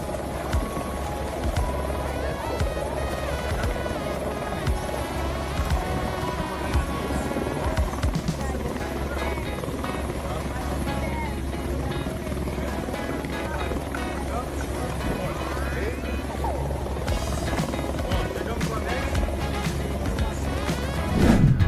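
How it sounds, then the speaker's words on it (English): A helicopter lands on a road in an emergency, its rotor and engine making a steady, loud, droning roar that holds throughout with a low thrum, overlaid by talk. "Landing a helicopter on the road?"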